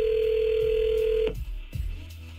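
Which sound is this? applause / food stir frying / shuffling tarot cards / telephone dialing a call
telephone dialing a call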